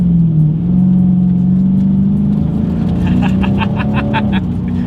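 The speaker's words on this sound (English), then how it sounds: "let's go ahead and see how quickly we can get this new 2020 Challenger Scat Pack here up to speed" A 2020 Dodge Challenger Scat Pack's deep, loud engine roars steadily up close during a wheelspinning launch, rising in pitch as it accelerates, with a rough rattling texture building toward the end.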